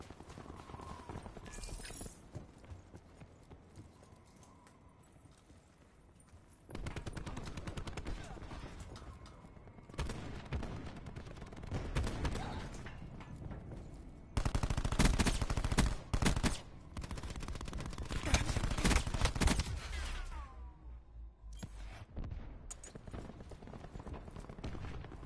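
Gunfire in Call of Duty Black Ops 4, long stretches of rapid automatic fire broken by short pauses, loud and dense through much of the stretch, with bursts rising and dropping away.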